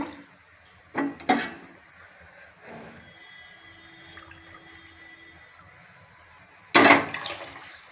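Milk poured from a glass into a pan for jaggery tea gives a few short splashing bursts, the loudest near the end, with quiet kitchen background between.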